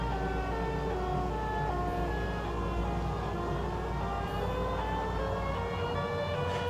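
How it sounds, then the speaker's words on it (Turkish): Continuous wailing siren like an ambulance's, droning steadily at a fairly loud level with traffic rumble underneath and no voices. "Bir ambulans sesi gibi siren çalıyor."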